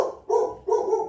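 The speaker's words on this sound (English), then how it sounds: "Sorry if you heard that, my dog was barking." A dog barks twice in quick succession, close and fairly loud, with a short pause between the two barks; no one speaks over it.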